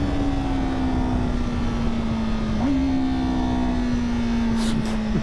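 2024 Honda Fireblade sport motorcycle engine running at a steady, fairly loud hum with one small rise in pitch midway, heard alone while riding.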